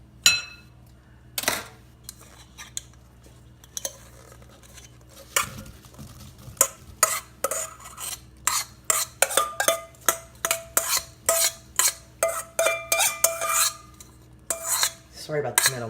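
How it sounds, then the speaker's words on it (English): Apple pieces tossed with sugar, all-purpose flour and cinnamon in a metal bowl, giving a run of sharp metallic clinks and scrapes, sparse at first then quickening into a steady, close rhythm of clatters. "I'm going to toss my apples into this mixture."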